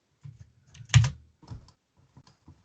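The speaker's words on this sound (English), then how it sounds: "Every time you type, no matter what podcast it is, it sounds like you're just like super mad at your keyboard. It's a mechanical keyboard. It's loud." Scattered clicks and clacks from a loud mechanical keyboard, with one heavier keystroke burst among soft, irregular taps, close by and quiet overall.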